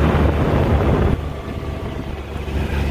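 Strong outdoor wind buffets the microphone at a fun fest on a Friday night, a loud rushing roar that eases slightly partway through, with any rattling lost in the gusts.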